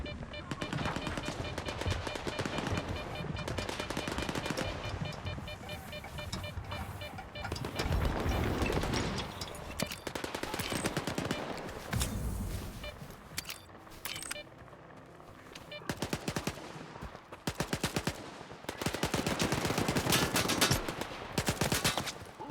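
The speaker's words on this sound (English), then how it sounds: "Oh, you're shooting at me." Video game gunfire: bursts of machine-gun fire and scattered shots in the game Jimmy Artifacts, loud and close with gaps between volleys, and speech faintly under it at times.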